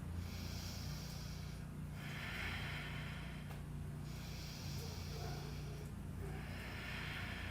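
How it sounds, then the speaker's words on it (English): Slow deep breaths during a yoga trapeze flow: long, airy inhales and exhales alternate in even cycles of about two seconds, close and breathy over a low background hum. "Take 2 deep breaths."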